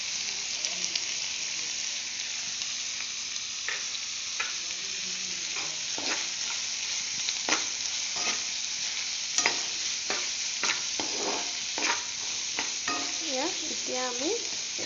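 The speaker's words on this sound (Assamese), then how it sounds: "এতিয়া এইখিনি ভালকৈ লৰাম।" Masala frying in a pan is stirred steadily, a continuous sizzle with scraping spoon strokes repeating through the clip, close and fairly loud, with no voices.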